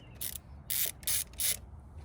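A ratchet on extensions turns out bolts on a 2004-2006 Scion xB during a cold air intake install. Four short bursts of quick, close clicking are separated by brief pauses.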